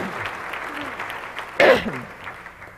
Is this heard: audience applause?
yes